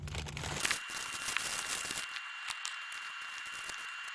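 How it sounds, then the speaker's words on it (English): Plastic packaging crinkling as an anime prize figure is unwrapped close up, with bursts of crumpling and rustling that start dense and thin out to scattered crackles. "Let's unwrap it."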